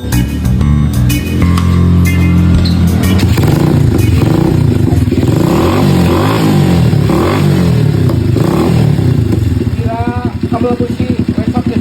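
A motorcycle engine with a loose spark plug cable runs loud and close, revving and clattering unevenly over about twelve seconds, with voices talking over it.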